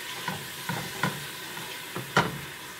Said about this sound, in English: so just stir that around